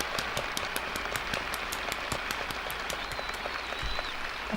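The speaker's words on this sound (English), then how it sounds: "Applause." A large outdoor crowd applauds during John F. Kennedy's space speech, a dense, continuous roar of clapping with sharp individual claps poking through, heard as an old, slightly noisy recording.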